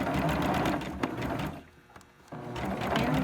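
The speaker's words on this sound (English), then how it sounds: "Okay, back stitch elastic." A sewing machine back-stitches elastic onto a fabric face mask, running steadily with a fast close mechanical whir, then briefly pausing before starting up again, with no talking over it.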